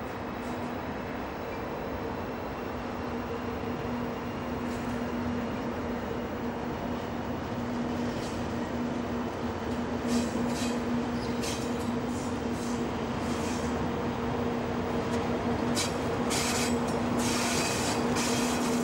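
A Class 140 locomotive hauls a car-transport freight train out of Mannheim freight yard, a steady rolling rumble with a low electric hum, wheels rattling over rail joints and faint metallic squeals building toward the end.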